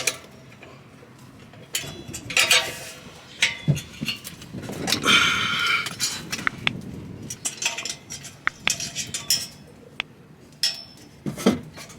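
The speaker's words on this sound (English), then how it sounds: "putting the first clamp on over the top first, you clip it on, and then the second one goes on the bottom" Exhaust clamps being clipped onto a BMW N55 exhaust from underneath the car, with close, sharp metallic clinks and ticks in irregular bursts, a scraping rustle in the middle and quiet pauses between.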